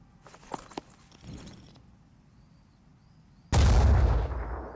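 A squad opens fire in the strategy game Phoenix Point, a sudden loud burst of gunfire that follows a quiet stretch of scattered clicks and light movement sounds.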